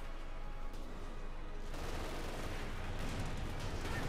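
Panzer IV tank cannon firing in Company of Heroes 2 during a fight near a cemetery fence, a dense, sustained roar of battle-wide gunfire and heavy booms that grows louder after the first couple of seconds.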